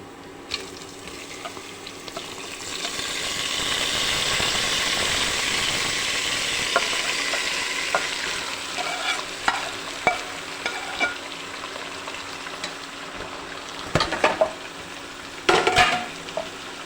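Marinated mutton sizzles loudly in hot oil with fried mustard seeds as it goes into a curry, with a steady hiss followed by repeated scraping and clacking of stirring against the pan.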